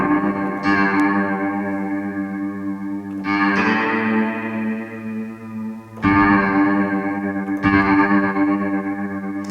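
A spring reverb from the Eventide Spring plugin on iOS, with tremolo placed after the reverb, colours a sustained, loud, distorted chordal tone. The tone pulses and swells, and fresh attacks arrive every few seconds.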